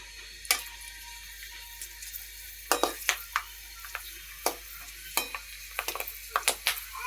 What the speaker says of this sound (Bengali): এটাকে তেলের ভিতর দিয়েছি, এখন আস্তে আস্তে ফুটতে থাকবে